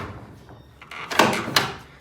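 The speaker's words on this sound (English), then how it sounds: "And now we can check the door manually." A metal roller door rolled by hand after its tension is adjusted, giving a rising rumbling scrape with a couple of rattling surges, close and fairly loud.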